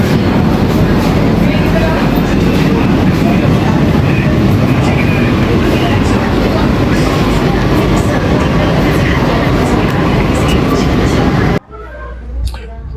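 Inside an AC local train running from Sealdah towards Ranaghat, a loud continuous rumble of wheels and carriage noise fills the scene, ending abruptly near the close into quieter ambience.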